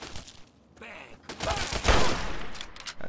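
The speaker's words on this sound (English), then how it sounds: "Whoa, stop shooting at me." Gunfire in the Fallout 3 video game, with bursts of shots ringing out at the player in the Bethesda ruins, loud and broadband, while someone talks over the shooting.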